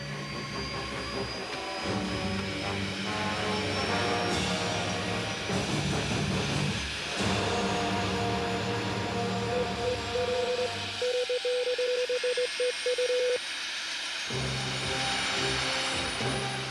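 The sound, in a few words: Aérospatiale Dauphin helicopter main rotor starting up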